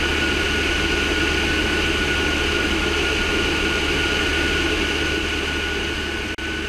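A small tail-dragger airplane drones steadily in flight over British Columbia, its engine and wind noise forming a constant, loud, unbroken roar from start to finish.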